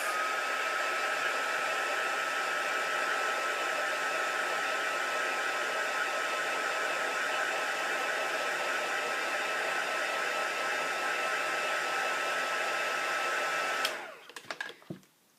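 A heat tool drying a heat embossing project gives a loud, steady whirring blast of hot air for about fourteen seconds, then switches off, leaving a few faint clicks and taps.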